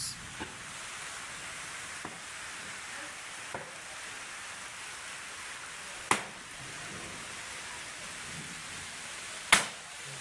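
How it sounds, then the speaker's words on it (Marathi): Heavy rain in the Konkan region falls as a steady, even hiss, broken by a few sharp cracks and knocks nearby, with no voices. "जोरदार पाऊस"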